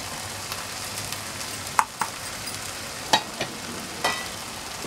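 Dry spices sauté in a pan over low heat with a soft, steady sizzle, broken by a few sharp scraping taps of a spoon stirring, close and alone.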